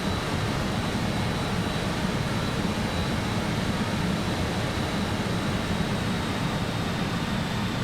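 Steady, loud roar of BAe 146-200 jet engines in flight in Microsoft Flight Simulator 2020, a continuous broadband drone with an even level throughout and no voices.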